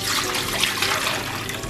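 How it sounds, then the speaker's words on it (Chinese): Clear water poured into a cooking pot, a steady close splashing rush that stays at an even level throughout, with no voices. "锅中倒入清水"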